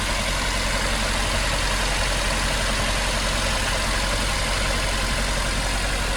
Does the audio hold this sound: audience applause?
no